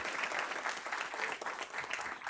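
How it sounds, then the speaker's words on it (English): Audience applause for a resource teacher being honored at a school district board meeting, a steady dense clapping that holds at an even, fairly loud level throughout. "Let's give her a hand clap, please."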